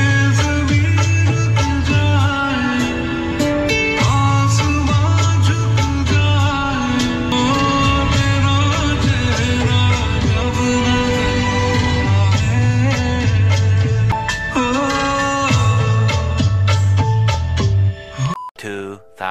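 Music plays loudly through the upgraded Audio Circle speaker system in a Maruti Suzuki Brezza, with a steady pulsing bass beat and vocals, then cuts off abruptly near the end.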